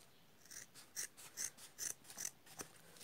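Scissors snip through felt while trimming a mask shape, giving a run of six or seven crisp, close cuts in an uneven rhythm with no talking.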